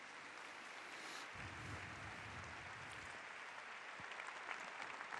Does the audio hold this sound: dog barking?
no